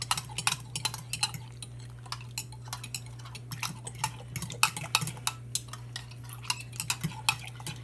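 Seasoned cooked ground beef taco meat stirred with a utensil, giving rapid irregular scraping clicks and taps against the pan over a steady low hum, close and fairly quiet, with no voices.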